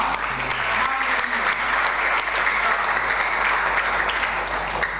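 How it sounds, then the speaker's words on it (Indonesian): An audience at a community gathering applauds seniors with continuous, even clapping that holds steady throughout, moderately loud with faint voices underneath. "Kita tepuk tangan dulu kepada senior kita."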